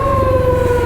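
Ambulance siren wailing in a steady two-tone sweep through road traffic, loud and close with engine rumble beneath, no voices.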